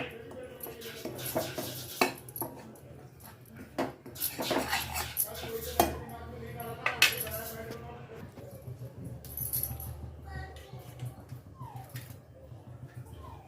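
Metal utensils clink and scrape against a bowl while rajgira flour is stirred for ladoos, a run of sharp irregular taps up close, with someone talking over it.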